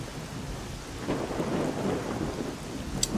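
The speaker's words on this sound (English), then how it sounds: "Would you look at that? A radioactive rain." Steady rain pours down while a low thunder rumble swells in the middle, and a sharp drip or crack sounds near the end. No one speaks.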